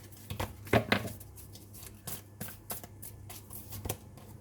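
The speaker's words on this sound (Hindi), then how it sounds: "चलिए अब मैं कुछ और भी आपके लिए कार्ड्स निकाल लेती हूँ" Tarot cards are shuffled by hand at close range in several quick riffling bursts with short pauses between them, and no voice is heard.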